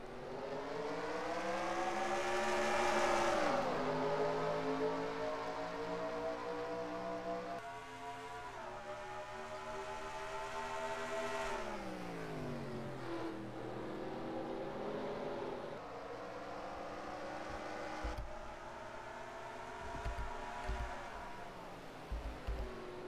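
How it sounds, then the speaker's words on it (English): Race cars roar away at a green-flag start of the Road America 200 road-course race, loud layered engines rising and shifting pitch as they accelerate up a hill, sustained throughout with no talk. "Coming up the hill, we are Green Flag Racing in the Road America 200."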